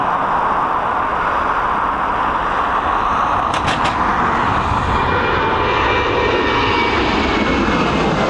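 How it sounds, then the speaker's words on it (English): A Ryanair Boeing 737 taking off from runway 28R at Dublin Airport gives a loud, steady jet engine roar that fills the whole stretch, without speech. "Next up, we've got a Boeing 737. She's operated by Ryanair."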